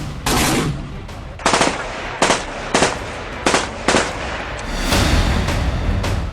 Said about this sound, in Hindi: जहां से अब से कुछ देर पहले गोलियां चलने की आवाज सुनी गई है।